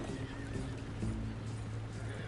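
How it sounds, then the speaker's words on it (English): A horse in the video game Red Dead Redemption II whinnies in a strained, pained tone over steady low rumbling background noise, with faint hoof clops. "I heard it whinny like it was in pain"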